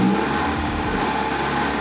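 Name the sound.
Mazda Miata engine revving as RPM rises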